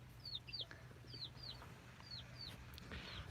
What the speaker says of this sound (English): the peeping you can hear is the chicks behind us